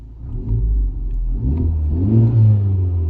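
A car engine revs up and holds a steady, loud rumble close by, rising in pitch midway before settling, with no talking.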